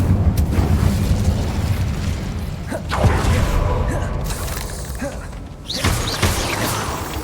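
The Incendio fire spell goes off in Hogwarts Legacy as a series of whooshing bursts and booms over a continuous, busy game soundscape.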